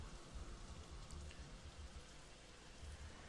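Steady rain falls in the video game Painkiller, a soft, even hiss of drops on surfaces with no speech over it.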